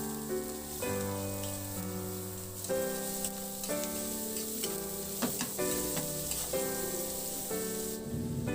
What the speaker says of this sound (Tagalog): At igisa ko na rin yung sibuyas. Ihalo lang hanggang sa maluto yung sibuyas.